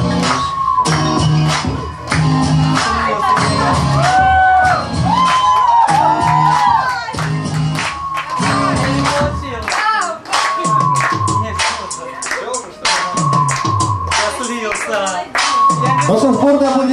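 Audience at an 18th birthday party claps, cheers and whoops after a song performance, with shouting voices and lingering music-like tones mixed into the crowd noise, loud and continuous throughout.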